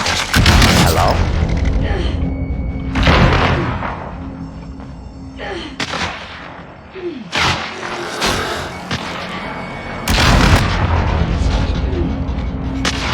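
Bursts of heavy, booming gunfire from a CR-56 AMAX rifle firing golden tracers in a video game, with repeated loud shots over several seconds amid continuous dense game noise.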